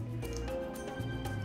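Wet, sticky slime squished by hand, a brief run of close, moist squelches and soft sucking pops.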